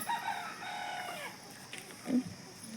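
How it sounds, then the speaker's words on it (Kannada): Chickens and a rooster outdoors in a village, a crow drawn out over the first second followed by a few short clucks, faint and somewhat distant. "ಸೌಂಡ್ ಕೇಳಿಸ್ಕೇರಿ. ಕೋಳಿ ಸೌಂಡು."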